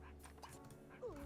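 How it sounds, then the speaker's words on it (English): Small dog in The Sims 2 giving short yips and whimpering barks, close and fairly quiet, with a voice speaking over part of it. "Cordelia, that is my dog."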